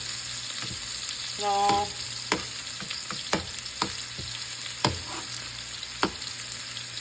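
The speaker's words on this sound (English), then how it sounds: "So I'm just going to keep flipping and flopping all this until all sides have got a little bit of char on them" Food sizzles in a hot frying pan as pieces are flipped and charred for a cheap three-ingredient meal, a steady soft hiss punctuated by sharp scraping clicks of the utensil every second or so.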